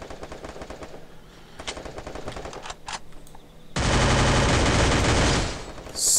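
Rapid machine gun fire rattles in sustained bursts, growing into a loud continuous stream of shots with no talking.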